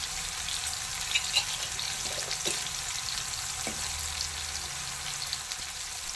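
Red chilli powder, coriander powder and garam masala cook in a pan over a low flame for chenga pappu curry, giving a soft, steady sizzle with occasional faint stirring clicks.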